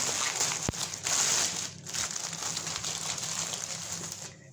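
A paper-wrapped parcel holding Bluetooth earphones is torn open and unwrapped, giving steady close crinkling and rustling of paper with a sharp tearing burst near the start, with no talking.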